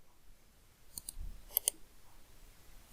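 Crisp computer mouse clicks in a quiet room: a couple of soft clicks, then a sharper pair in quick succession, all close to the mic and isolated against faint background noise.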